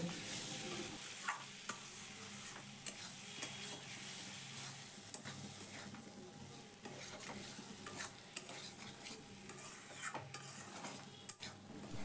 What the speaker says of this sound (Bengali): আলুটা দিয়ে আবারও আমি আলুগুলোকে মশলার সাথে 5 মিনিট কষিয়ে নেব।